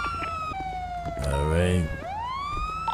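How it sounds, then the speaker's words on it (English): A police car siren during a ride-along, loud and close, sweeping in rising and falling wails with a sharp yelp in the middle, while someone briefly speaks over it. "Let's cut off these sirens, boys."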